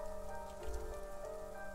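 Steady rain falling in the survival game The Forest, a soft continuous patter over a low ambient bed with a brief louder rustle midway; no one talks.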